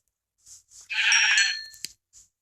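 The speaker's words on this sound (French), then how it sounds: "Un autre mouton." One sheep in a video game lets out a single bright, wavering bleat lasting about a second, framed by a few soft, short game sounds before and after, with no talk.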